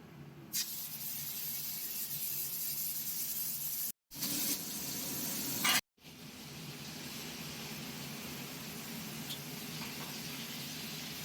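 Spice paste of ground cashew, melon seeds, green chilli, black and white mustard and poppy seeds hits hot mustard oil tempered with nigella seeds, giving a steady loud hiss with two brief breaks, for a Bengali bata fish korma.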